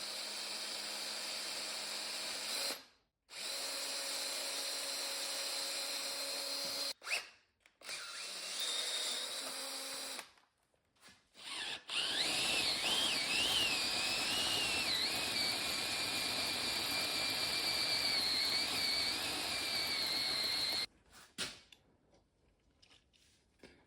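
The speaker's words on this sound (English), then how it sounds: "So I've drilled a pilot hole there" A power drill whines steadily for several seconds with short pauses, close and loud, its pitch shifting slightly as it bites into material while drilling a pilot hole on a milling machine.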